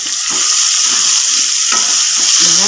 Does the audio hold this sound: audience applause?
no